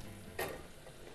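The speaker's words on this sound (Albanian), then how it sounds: "Në tigan, do kalojmë mollët, t'i japim shije." Apples going into a buttered frying pan give a brief burst of sizzling and frying noise near the middle, loud and close, over quiet kitchen background.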